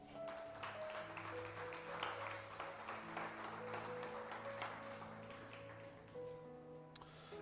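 A church congregation claps along during a worship service, rhythmic hand claps over sustained organ or keyboard chords, fairly quiet and distant.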